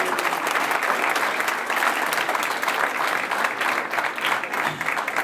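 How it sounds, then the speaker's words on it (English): An audience at a high school Hall of Fame ceremony applauds steadily for several seconds in a dense, sustained clapping that fills the hall. "So if we could please give him a round of applause."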